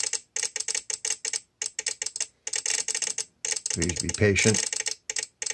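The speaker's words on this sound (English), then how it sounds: "should take about a minute's worth of clicking" A VXT-24 boiler water feeder controller on a steam boiler clicks in rapid, regular bursts separated by short gaps, close and fairly loud, with a brief spoken phrase partway through.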